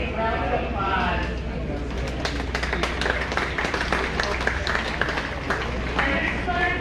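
A crowd in the arena of the Butler County Fair 4-H/FFA sheep show gives a sustained round of applause, dense steady clapping from many hands lasting several seconds without a break.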